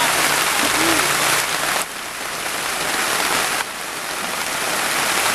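Steady heavy rain pours down in a continuous dense hiss, loud and close, with no pauses.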